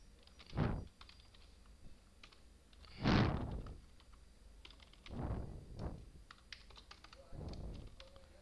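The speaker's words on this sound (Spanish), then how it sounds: "escribiendo" Typing on a computer keyboard while entering commands in Linux Ubuntu, with separate close clusters of key clicks and a few louder thumps spread across the stretch, and quiet gaps between bursts.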